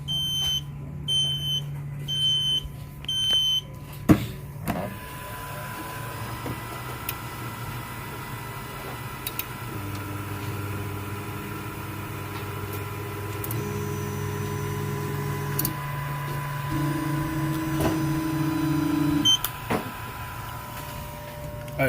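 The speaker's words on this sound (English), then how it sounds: "is initialize the printer" An Afinia H400 3D printer initializes: a few short beeps at the start, then steady motor hums and whirring tones that shift in pitch as the mechanism moves, close and with no talk.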